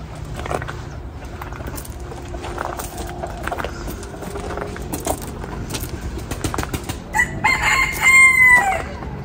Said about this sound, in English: Wow, there's a lot of roosters.